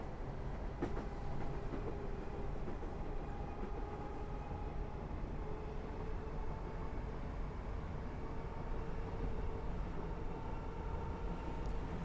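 A train at full throttle on the East Coast Main Line between London and Peterborough in Train Simulator 2022 rumbles in a steady, continuous drone with faint rail clicks, with no voices.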